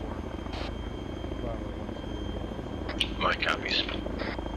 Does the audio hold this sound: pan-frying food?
no